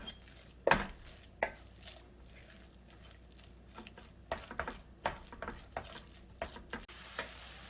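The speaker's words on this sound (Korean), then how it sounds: "요걸 그냥 그대로 이렇게 슬쩍 좀 볶아 주시면 돼요" Dried radish greens (siraegi) stir-fried in a heated pan, giving a quiet sizzle with irregular scraping and tapping strokes of a utensil, some of them sharper, and no voices.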